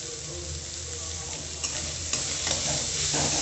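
Chopped onions fry over high heat in a pan with lightly salted, half-cooked vegetables for a chicken roll filling, giving a steady close sizzle with a few stirring clicks and scrapes.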